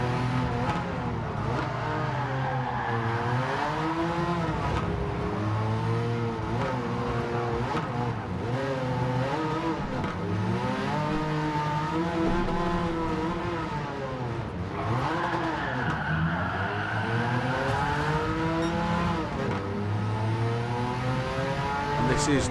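Racing video game car engine, driven with only brake pedal and throttle, revving and shifting pitch continuously for the whole stretch, loud and steady with sweeping rises and falls as the car accelerates and slows.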